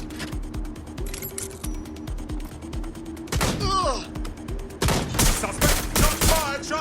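Rapid bursts of gunfire from the Watch Dogs: Legion video game crackle in quick volleys, with mechanical clicks and clatter between them and louder, close shots toward the end.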